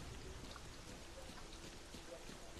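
Rain in the video game STALKER: Clear Sky, a steady, faint hiss of falling drops with no breaks, spread evenly across the whole short stretch.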